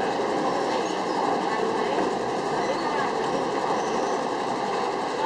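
Ordinary train No. 257 from Thonburi to Nam Tok crossing the wooden Tham Krasae bridge, a steady rumbling roll of railcars heard from nearby, continuous and even throughout.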